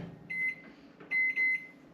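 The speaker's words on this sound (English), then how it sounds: "quick melt the butter in the microwave" Microwave oven melting butter, sounding as a few short electronic beeps in two quick bursts over a faint background hum.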